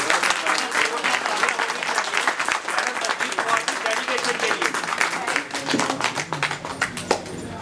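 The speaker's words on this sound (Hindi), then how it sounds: "एक बार ये हल्की सी तालियों से काम नहीं चलेगा।" Audience applause at a bank retirement function, loud and dense clapping from a gathered crowd with some sharper individual claps standing out, continuing steadily to the end.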